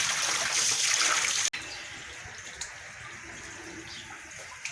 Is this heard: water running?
yes